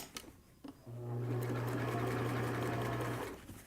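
A sewing machine runs steadily for a few seconds, stitching a straight 3/8-inch seam in a cotton cancer-patient cap, loud and close with a constant motor hum and a brief start-up before it.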